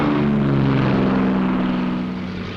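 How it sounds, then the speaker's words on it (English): P-38 fighter planes with propeller engines take off together, a loud, steady, droning engine roar with a strong low hum that holds, then eases slightly toward the end. "the P-38s get underway"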